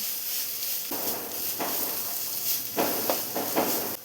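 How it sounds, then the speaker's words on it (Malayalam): Coconut and onion sauté together in a pan for egg thoran, making a continuous soft sizzle and hiss with several brief bursts of louder frying as the mixture is stirred, close and steady with no talking. "തേങ്ങയും സവാളയും എല്ലാം കൂടെ ജസ്റ്റ് ഒന്ന് വഴറ്റിയെടുക്കാം."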